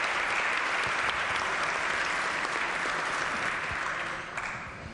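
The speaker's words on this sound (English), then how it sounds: "if everyone would give him a round of applause and welcome him" Sustained applause fills a West Virginia legislature chamber, a dense, steady clatter of many hands that holds loud for several seconds before easing slightly toward the end.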